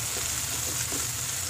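Fresh peas sauté with ginger and chilli in a pan, giving a soft, steady frying hiss at moderate level with faint stirring underneath throughout.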